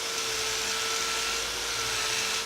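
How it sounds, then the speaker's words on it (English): A soft Norton vortex wheel on a grinder removes and finishes a weld, giving a steady high whirring hiss with a constant tone, moderately loud and unbroken. "Just see how easily we can remove and finish this weld."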